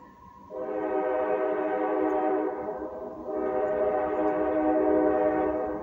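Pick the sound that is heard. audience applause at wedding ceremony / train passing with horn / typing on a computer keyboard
train passing with horn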